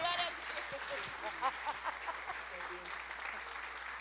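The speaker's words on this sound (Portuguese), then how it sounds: "Vamos aplaudir o Senhor." Church congregation clapping together in steady applause, with voices talking over the sustained clapping in a worship setting.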